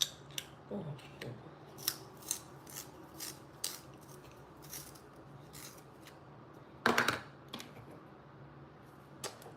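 Small items being sharpened in a handheld sharpener, giving a series of short scraping, rasping strokes at irregular intervals, close and fairly quiet, with one louder burst of grinding near the end.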